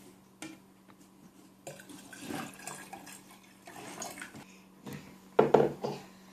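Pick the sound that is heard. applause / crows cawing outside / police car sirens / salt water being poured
salt water being poured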